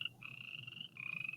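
A frog croak plays from a quiz app, two sustained buzzy trilling croaks separated by a brief gap, thin and electronic-sounding.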